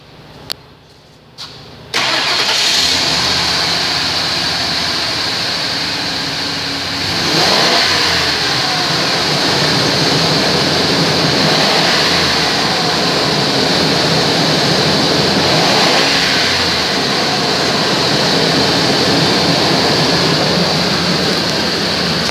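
A 2001 Ford E250 van's engine cranks and fires, then settles into a steady, loud idle with a few mild rises in revs, running alone without talk.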